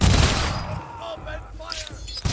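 Troops firing a volley in the strategy game Humankind, a loud crackling burst of musket-style gunfire at the start, trailing into scattered shots and battle noise with faint voices.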